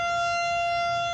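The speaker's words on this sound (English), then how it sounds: "The sirens are going off." A tornado warning siren sounds during a test, a loud, steady, sustained tone carrying through the whole moment without pause.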